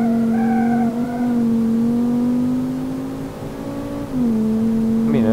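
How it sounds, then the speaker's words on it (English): A front-wheel drive hot hatch with a turbocharged five-cylinder engine in the BeamNG driving game, holding a loud steady tonal tire screech and engine drone that dips briefly and swells back near the end. "Did we just oversteer a front-wheel drive car? Why would I make this car front-wheel drive? I don't know, man, but it's fun. Front-wheel drive burning tires is always a adventure."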